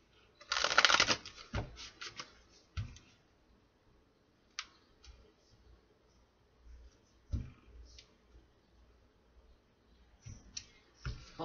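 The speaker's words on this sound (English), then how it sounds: "One more shuffle." Tarot cards being shuffled by hand, starting with a loud close riffle, followed by scattered soft card slaps, taps and clicks spread across the quiet stretch.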